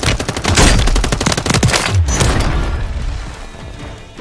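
Rapid automatic gunfire bursts ring out loudly in Call of Duty Warzone Resurgence, dense close shots for about two seconds, then fading into a rumbling tail.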